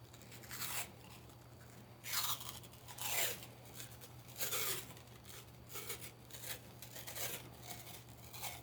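Strips of tape torn off a roll while wiring a car audio amplifier kit, several loud ripping bursts at irregular intervals over a low steady hum, with no voices.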